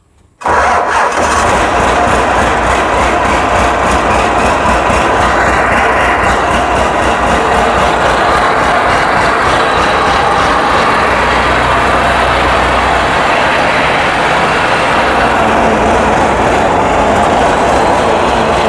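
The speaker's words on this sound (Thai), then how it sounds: "เครื่องยนต์ฮีโน่ GO" A Hino GO diesel engine on a rice combine harvester cranks, fires up and settles into a loud, steady running drone with a faint turbo whine, close by and alone for nearly the whole stretch.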